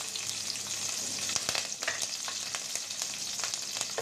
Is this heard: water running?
no